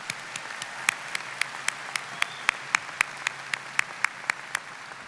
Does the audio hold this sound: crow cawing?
no